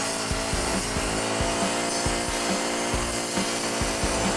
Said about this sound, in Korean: 원형 톱날 잘라 보겠습니다